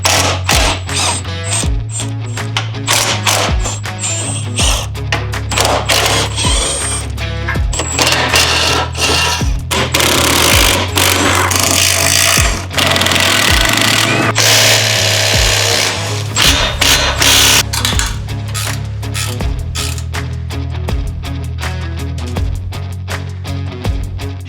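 Power tools work loose the exhaust clamps and braces under a Dodge Magnum RT, a loud continuous mechanical racket of rattling impacts and whirring, with metallic clanks running throughout.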